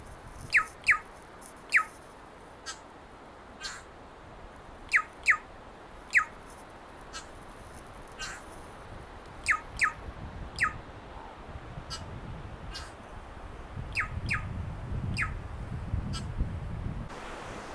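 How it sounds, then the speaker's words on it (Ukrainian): Bright, chirpy birdsong rings out in short bursts and trills against a steady outdoor hiss in New Zealand fern forest by streams, with rushing water or wind swelling near the end. "Такий птах сидить співає, дуже красиво"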